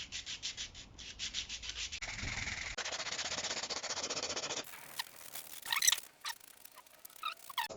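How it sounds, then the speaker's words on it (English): Sandpaper rubs against a steel katana blade forged from scrap, in rhythmic back-and-forth strokes, close and moderately loud, with changes in pace and a few scrapes and clicks between passes. "let's start with sanding"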